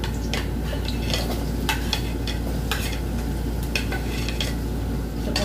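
Onion goes into a pan with browning ginger and is stirred and fried, bringing a constant sizzle and scattered scrapes and clinks of the spatula against the pan, close and without talk.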